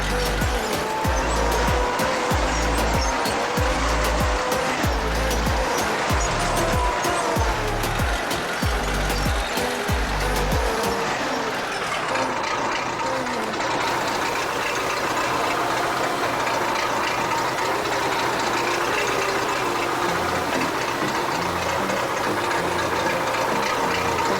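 A tractor engine in Farming Simulator 19 runs loud and steady, with heavy rhythmic low thumping in the first half that gives way to a continuous droning hum.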